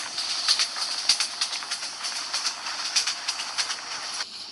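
A long passenger train runs on railway tracks between Chittagong and Sholashahar, giving a loud, close rushing hiss with a rhythmic clickety-clack of wheels over rail joints that repeats steadily before it eases off near the end.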